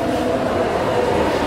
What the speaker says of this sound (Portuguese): Horário de pico no metrô.